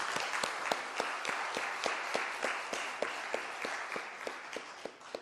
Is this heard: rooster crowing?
no